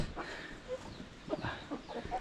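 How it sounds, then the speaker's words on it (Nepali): Chickens, hens and roosters in a village yard, clucking softly and intermittently while they are fed, in fairly quiet surroundings. "कुखुराहरूलाई चारो दिँदै हुनुहुन्छ"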